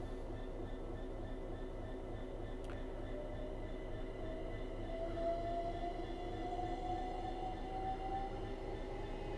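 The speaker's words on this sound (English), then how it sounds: "So that train's going." A London Overground train on the Mildmay Line in Train Sim World 5 pulling away, with a steady rumbling drone and a gradually rising electric whine from the traction motors.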